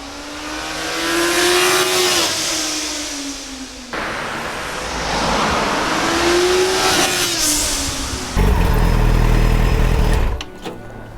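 Yamaha FZ6N motorcycle engine under way, a loud, steady drone that rises and falls in pitch through two climbs and backs off, followed by a rougher, louder stretch with heavy wind and road noise near the end.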